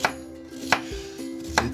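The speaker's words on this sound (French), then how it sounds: "دابا البنات راه كيكوبي البصله باش يشرب من الغوتي ديالو" Onion being chopped with a knife on a board, three sharp distinct cuts about a second apart over a faint background hum, with no talk.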